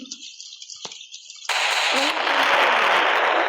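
A toy cannon (meriam) bought at a bazaar goes off with a sudden loud blast, followed by sustained hissing, crackling roar; quieter background chatter and a brief knock come before it.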